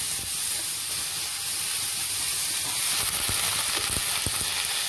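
A steady, loud sizzle and hiss of chopped green tomatoes frying in a hot kadhai, with a few faint knocks underneath.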